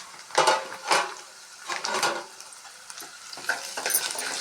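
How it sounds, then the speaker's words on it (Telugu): Red onions fry in a pan for a cucumber, tomato and broad bean curry, with soft sizzling broken by several distinct stirring scrapes of a spoon against the pan, close and fairly quiet. "ఇట్లా వేగాలి ఉల్లిపాయ"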